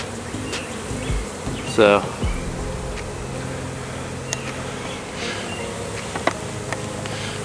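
A swarm of honey bees hovers around a tree branch, a dense continuous buzz close by, with a brief spoken word near the start.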